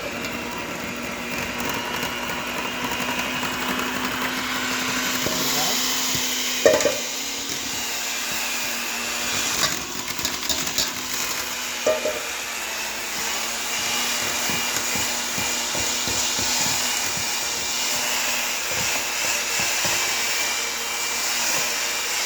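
An electric mixer whirs continuously through cookie dough for chocolate chip cookies, a steady close motor drone with occasional bumps and shifts in pitch.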